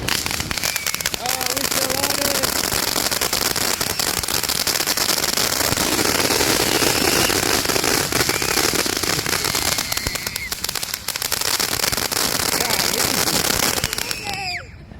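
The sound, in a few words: fireworks and firecrackers popping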